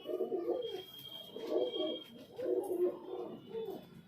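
Highflyer pigeons coo in a repeated, throaty rhythm inside a loft, several soft rolling calls close by, with faint chirps in the background.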